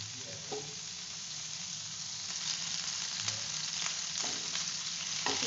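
Butter sizzles and crackles steadily in a pan over a medium flame while a mutton roast is being cooked. The frying hiss is close and continuous, with small pops and stirring sounds on top.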